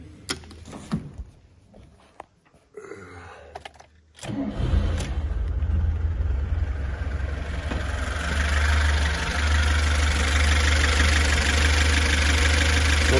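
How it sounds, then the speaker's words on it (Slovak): A VAZ 2106 engine, run after years of sitting on an external fuel can, cranks and catches around four seconds in, then settles into a steady, loud idle close by, with no talk over it. "Motorík nám pekne ide."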